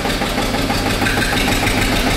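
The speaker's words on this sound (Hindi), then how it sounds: "ये देखिए जी क्या शानदार आवाज है ट्रैक्टर की," A 2007 Eicher 242 tractor engine runs steadily close by, a dense, continuous diesel chug with a rough knocking rhythm and no voices.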